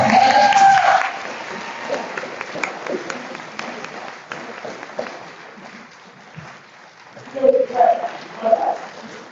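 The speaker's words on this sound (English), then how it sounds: "Let's give another round of applause to our candidates," Audience applause for candidates at a municipal candidate forum in Decatur, Alabama, a loud burst of clapping that fades into scattered claps and room noise, with voices speaking near the end.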